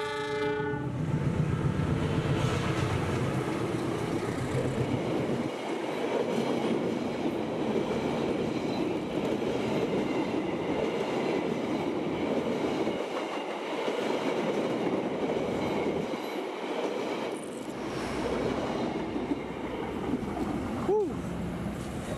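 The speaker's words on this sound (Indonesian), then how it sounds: "Ngebut bro, ya mah kereta cepat." A fast train passes close by, its loud rumble and wheel clatter rising and falling over about twenty seconds, with a horn sounding, heard outdoors near rice fields.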